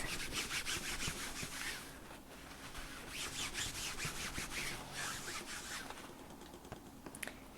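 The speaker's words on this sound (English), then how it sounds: "I'm just going to wipe off my table here with the excess" Cloth rubbing across a craft table to wipe away excess stamping ink, a soft repeated back-and-forth scrubbing that comes in rhythmic bursts, close and fairly quiet with no voices.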